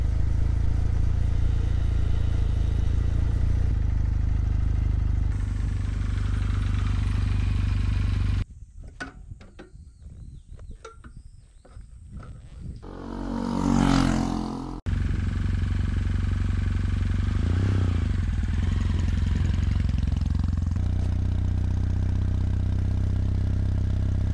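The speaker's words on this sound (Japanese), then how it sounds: "もうちょっとね、排気音でっかくてもいいと思うんだけどな。" An air-cooled Kawasaki W800 motorcycle engine and exhaust while riding, a steady low rumble mixed with wind, easing to a quieter stretch where it briefly swells before returning, with no talk.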